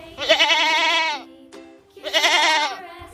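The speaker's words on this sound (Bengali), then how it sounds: "ছাগল" A goat bleats twice in loud, wavering, drawn-out calls, each lasting about a second with a short pause between, close and clear with no talking.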